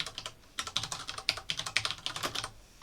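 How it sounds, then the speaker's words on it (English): Quick, irregular keystrokes on a computer keyboard, soft close clicks in bursts with brief pauses, no voices. "Ah, I'm typing in the wrong thing."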